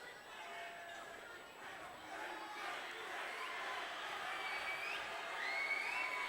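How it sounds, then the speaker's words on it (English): A rowdy home crowd at a high school varsity boys basketball game yells and cheers in a distant, sustained roar during a free throw, with scattered whoops and shouts. "Mead's rowdy crowd using any tactics they can to try and throw him off his game"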